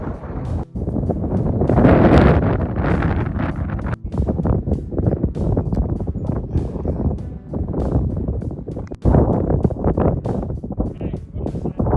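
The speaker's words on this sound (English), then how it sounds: "And it's very windy." Strong wind buffets the microphone high up on upstairs decking under construction, a steady roar gusting harder at moments, loud and close throughout.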